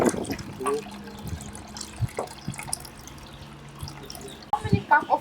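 Water is poured from a cup into a pot in a few short splashes and trickles, mixed with light handling clatter.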